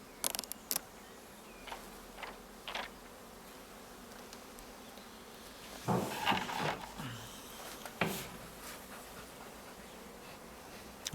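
Honeybees buzz around their hives at an apiary in late April, a low steady hum that swells briefly with a few louder passes close by, without talk.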